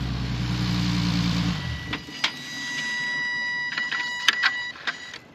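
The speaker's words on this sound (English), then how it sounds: "that was the sound of the throttle bodies relearning what to do with that" Engine of an Infiniti G37 switching off, its low running drone cutting out, followed by a few faint electronic clicks and whirring tones from the throttle bodies relearning in the quiet afterward.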